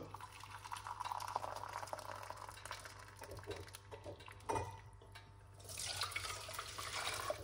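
Water poured from a tap into a large cup for making avocado tea, a steady close running and splashing flow that shifts in pitch as the cup fills, with a brief surge near the end.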